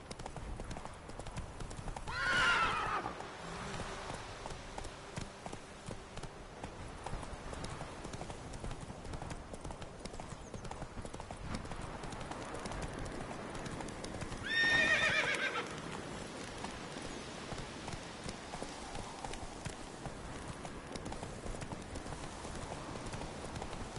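A horse in The Witcher 3 gallops with steady, close clip-clop hoofbeats running the whole way through, broken by two loud whinnies, one near the start and one about midway.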